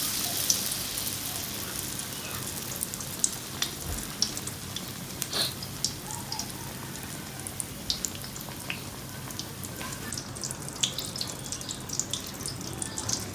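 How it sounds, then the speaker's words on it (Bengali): Ash gourd slices deep frying in hot oil give a continuous, dense crackling sizzle with scattered sharp pops, steady and fairly quiet throughout. "কিন্তু চাল কুমড়াটা ডিপু আজে ভাজলে কি হয় খুব সুন্দর ভিতরটা নরম হয়ে যায়"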